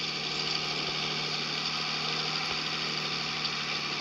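A steady, continuous tractor engine drone at idle in Farming Simulator 23 at night, droning evenly with a low rumble and no pauses.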